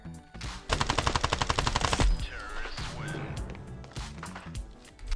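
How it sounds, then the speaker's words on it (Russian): A rapid burst of automatic gunfire from the mobile shooter game Standoff 2 fires as a fast even rattle, followed by scattered single shots and game sound effects. "В полете в голову мне выстрелил!"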